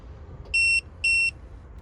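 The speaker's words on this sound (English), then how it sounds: "2 beeps signify that it's on." Two short, bright electronic beeps in quick succession from an EM313A caravan motor mover switching on, evenly spaced, against a quiet background hum.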